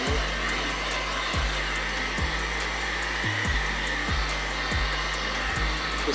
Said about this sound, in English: You have to be careful with the heat gun